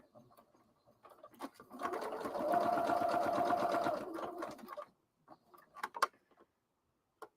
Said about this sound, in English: Just sew it together. Back stitch.